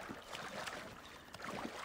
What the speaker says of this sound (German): Wir nehmen uns ganz gechillt dieses Bötchen da vorne.